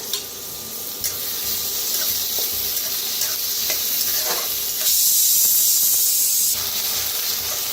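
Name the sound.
frying onion, curry leaves, chili and garlic in pan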